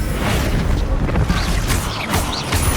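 A Confringo fire spell bursts in Hogwarts Legacy, a dense, loud explosive whoosh and rumble that fills the moment, with a voice speaking over it.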